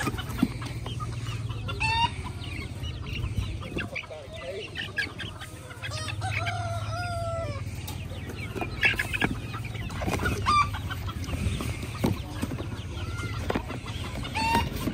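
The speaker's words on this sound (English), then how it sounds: "Now it's time to load her chickens up." Chickens bought at a chicken auction clucking and squawking in a crate, several birds close by, steady busy calls over a low engine or ventilation hum, with an occasional crow-like call mixed in.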